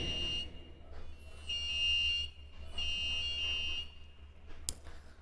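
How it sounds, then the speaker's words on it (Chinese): An Arduino buzzer wired in series with a photoresistor sounds steady electronic alarm-like tones whose pitch shifts as the light changes, in bursts separated by short gaps, heard alone and fairly close. "其实这个跟我们前面学的蜂鸣器的这个源码是一样的，只是我们在蜂鸣器上串联了一个光敏电阻啊"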